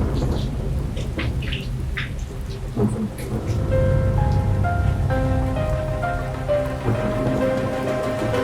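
Winter rain falls steadily, a continuous loud hiss throughout with low rumbling underneath and some faint tonal background sounds mixed in.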